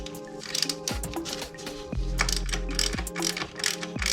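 Ratcheting breaker bar clicking rapidly in repeated strokes while working the rear shock bolts of a Honda Hawk motorcycle, close and loud with a steady ratchet rhythm.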